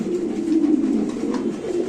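Pigeons coo close by at a pigeon market, a continuous low throaty rolling coo filling the moment with no talk over it.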